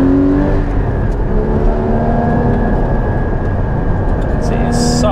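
A Porsche Cayman 981 GT4 with a manual gearbox accelerates hard at speed, its mid-mounted engine droning loud and close with a rising pitch and heavy rushing road and wind noise throughout.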